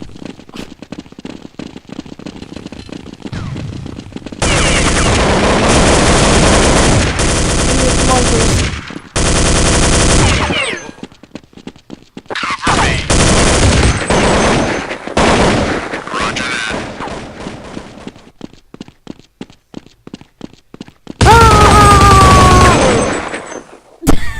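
Bursts of automatic gunfire from the Counter-Strike video game, rapid rattling volleys several seconds long separated by quieter stretches of single clicking shots, loud and close, with a voice speaking faintly in places.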